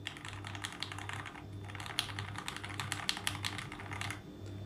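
Gate Pro Milky Yellow mechanical keyboard switches, among other linear switches such as Jelly Strawberry V2, clatter under fast continuous typing, a dense stream of soft clicky keystrokes heard close up with a faint low hum underneath.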